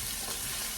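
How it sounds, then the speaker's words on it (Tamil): Eggplant sizzles in a hot pan, a dense, steady hiss of frying that fills the brief moment without any voices. "இப்போ கத்திரிக்காயும் போடுறேன். நான் கொஞ்சம் இதில் வதக்கிட்டு"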